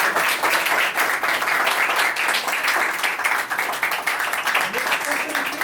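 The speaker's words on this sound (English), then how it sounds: "Clap कर दो भाई" An audience clapping, with dense, continuous applause from many hands that holds steady and loud for several seconds, and faint voices mixed in.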